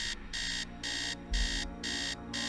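An alarm clock in a Nancy Drew haunted-mansion game rings in four evenly spaced bursts of bright electronic beeping, loud and close, with brief silent gaps between the bursts.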